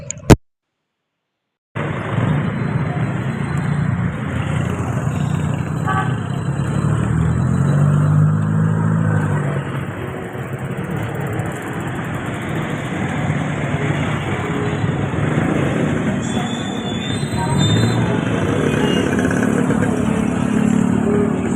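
Steady traffic of cars and motorcycles in Montalban, Rizal, Philippines, with engines droning and revving nearby and vehicles passing in a continuous, fairly loud wash.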